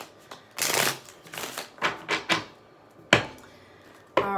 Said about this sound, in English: All right, 3 more shuffles.